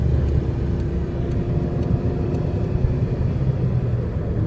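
Toyota car cruising at 80 km/h in fifth gear, a steady close low engine and road rumble holding even throughout with no talking over it.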